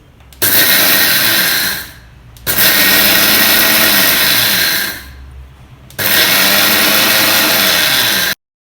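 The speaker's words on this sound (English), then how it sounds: "Don't run the mixie continually at a high speed. Just pulse it a couple of times" A kitchen mixer grinder pulses flattened rice (aval) to a coarse rava-like texture, giving three loud, close whirring bursts, each a second or two long, separated by short pauses.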